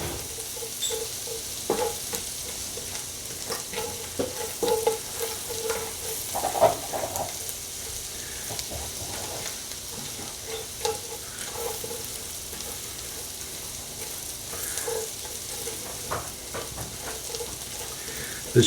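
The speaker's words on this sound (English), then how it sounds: "The butter is beginning to brown." Butter browning with shallots in a pan for a salmon Florentine sauce: a steady, moderate sizzle and crackle with occasional stirring scrapes, heard alone without talk.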